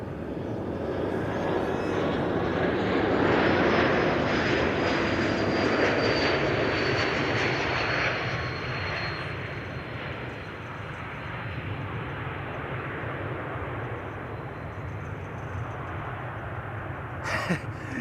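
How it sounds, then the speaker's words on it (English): Air Baltic Airbus A220 jet flying as Austrian flight 313 at Amsterdam Schiphol, its engines a loud sustained roar that swells early and then slowly fades as it passes, with no talk over it. "So this is the Air Baltic A220, but it's actually flying on behalf of Austrian"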